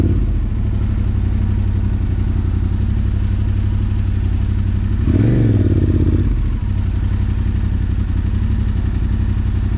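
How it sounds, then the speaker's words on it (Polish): A Yamaha Raptor quad bike fitted with an MT-07 motorcycle engine runs steadily nearby with a low rumble, swelling briefly in a louder rev midway before settling back to a constant drone. "Czyli taka jazda motocyklem na czterech kołach teraz"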